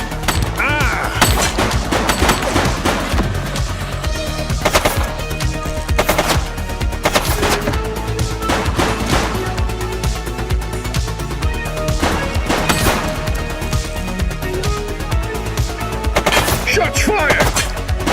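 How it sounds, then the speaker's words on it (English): Gunfire in the police game The Precinct, a string of sharp, loud shots and short bursts scattered irregularly over a busy background of street and action sounds, close and prominent. "Shots fired!"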